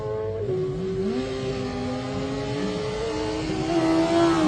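A racing motorcycle at the Manx Grand Prix on the Isle of Man roads pulls hard away from the start, its engine note climbing steadily through the gears, loud and continuous with a steady drone throughout.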